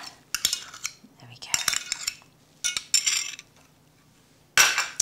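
A spoon or spatula scrapes egg yolk mixture out of a bowl for a chilli chocolate dessert, in loud, close bursts of metal scraping and clinking against the bowl, with a few words spoken partway through.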